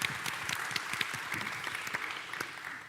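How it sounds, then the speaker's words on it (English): A festival audience at the 2024 Games for Change Festival claps in a sustained round, individual hand claps standing out as distinct sharp hits within the steady wash. "So please give them a round of applause."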